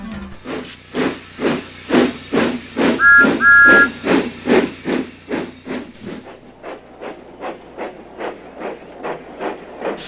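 Rhythmic puffs of steam chuff steadily from an engine, with a short two-note whistle toot early on, then the chugging continues more softly.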